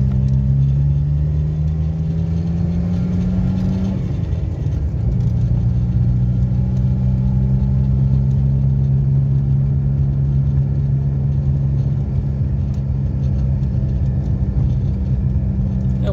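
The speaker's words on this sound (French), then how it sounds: "Elle roule impeccable cette caisse." A car cruises steadily along a road, its engine holding a smooth, close hum and rumble from the cabin, with a brief pitch shift partway through as the engine note changes before settling again.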